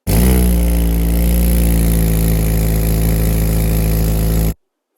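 A Honda Civic FN2 Type R idles steadily with a 2.5-inch catback exhaust whose gasket is blowing, a loud, close, constant drone that runs for about four and a half seconds and then cuts off abruptly.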